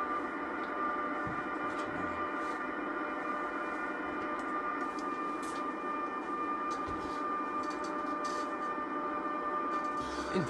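Steady train running sound from Train simulator 2018, a German train at about 155 km/h, giving a continuous, even rumble and hum with faint clicks, played alone at a constant level throughout.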